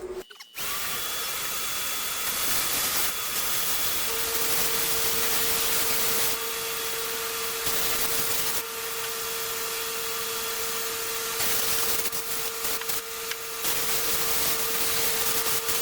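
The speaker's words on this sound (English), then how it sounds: "we got our air compressor. We got our air gun up there. Just blasting myself in the ear." Sustained loud hiss of an air gun fed by an air compressor, blowing dust out of a 2003 PC, a steady blast running nearly unbroken for the whole stretch after a brief start.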